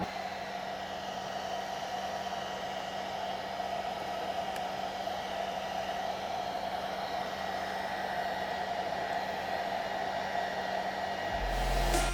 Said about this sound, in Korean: 이렇게 드라이기로 가열을 하면서 보여주시는 게 좋아요